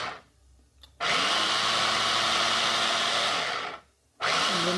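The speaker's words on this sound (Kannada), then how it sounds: "ಈಗ ಇಲ್ಲಿ ಮಾವಿನ ಹಣ್ಣಿನ ಸಿಪ್ಪೆ ತೆಗೆದು ಕಟ್ ಮಾಡಿಕೊಂಡು ಮಿಕ್ಸಿಯಲ್ಲಿ ಅಥವಾ ಈ ಥರ ಚಾಪರಲ್ಲಿ ಅದನ್ನು ಜ್ಯೂಸ್ ತೆಕ್ಕೋಬೇಕು" An electric chopper whirs loudly for about three seconds while it juices peeled mango pieces, stops briefly, then starts again, each run beginning abruptly from near silence.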